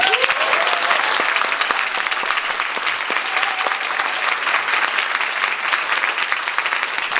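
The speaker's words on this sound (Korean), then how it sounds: "교수님을 뜨거운 박수 모시겠습니다." A lecture audience greets a professor with warm, dense applause that stays strong and even for about seven seconds, with no voices over it.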